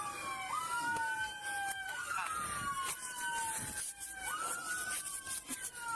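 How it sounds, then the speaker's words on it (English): A police car siren wails, sweeping up and down repeatedly over a steady background hum, moderately loud and slightly distant. "Go turn that siren off."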